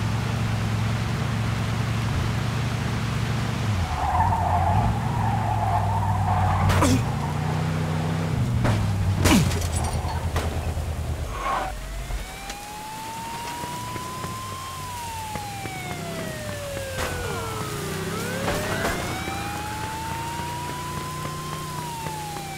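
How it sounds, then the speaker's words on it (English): Police siren wailing in a Mafia II car chase, rising and falling through the middle and end over engine rumble and sharp impact hits, with radio-style talk at the start. "Pursuit of a speeding vehicle."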